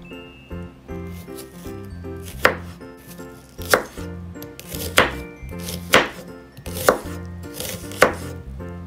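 A Bavarian Edge kitchen knife chopping through an onion on a board, with about six sharp, evenly spaced cuts ringing out over a soft music bed, close and distinct.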